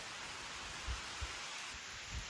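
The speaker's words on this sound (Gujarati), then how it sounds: "ખબર નહીં આપણી કેમેરામાં દેખાય કે નહીં પણ વરસાદ આવે" Steady rain falling in a village, a soft, even wash of noise with a few faint low thumps, distant and continuous with no voices.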